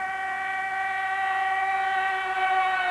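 A radio-controlled scale model airplane at a scale model competition runs its engine up for takeoff, giving a steady, loud, sustained tonal whine that holds an even pitch throughout.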